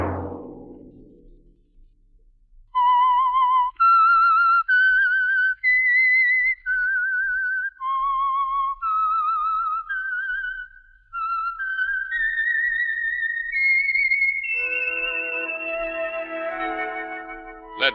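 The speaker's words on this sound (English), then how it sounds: "Let that whistle be your signal for the Signal Oil program, The Whistler" A whistled melodic theme plays as the signal for the old radio mystery program The Whistler, with a clear solo whistle of sustained, rising and falling notes followed by orchestral chords at the end.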